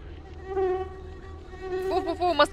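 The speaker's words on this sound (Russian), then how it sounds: "Фу-фу-фу, москитосы." Mosquitoes in The Cursed Forest video game whine with a sustained, steady buzzing drone that swells and thins. A higher warbling tone joins near the end.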